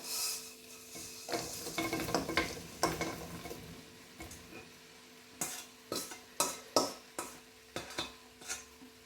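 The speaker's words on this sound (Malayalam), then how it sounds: "ഇനി നമ്മുടെ മീൻ ഇട്ട് കൊടുക്കാം" King fish pieces dropped into hot oil in a pan for fish pickle, a steady sizzle and frying hiss with clattering stirs and scrapes of a utensil, the scraping growing into sharp separate knocks toward the end; no talk.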